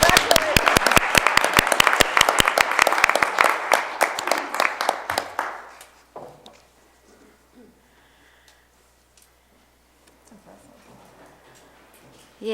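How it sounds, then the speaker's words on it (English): Audience applause at a school district budget meeting, a burst of many hands clapping that fades out after about six seconds, followed by quiet room noise and faint talk. "Can we clap again?"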